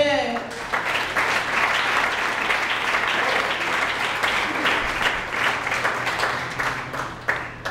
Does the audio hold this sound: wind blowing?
no